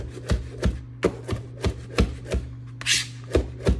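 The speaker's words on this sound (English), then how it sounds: "And then we are going to go ahead and mince up this parsley." Knife blade mincing fresh parsley on a board, a steady series of sharp, close chopping taps about every third of a second, with a brief scraping gather partway through.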